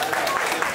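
Brief burst of audience applause at a live concert at Airlie Beach Bowls Club, dense clapping over a short moment with voices mixed in.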